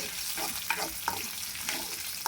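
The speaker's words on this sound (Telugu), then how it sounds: "నెయ్యితోనే పోపు వేసుకోవాలి ఫ్రెండ్స్" Tempering spices sizzle in hot ghee for moong dal pongal, a steady close crackle with a few sharp pops and light stirring clinks, no voices.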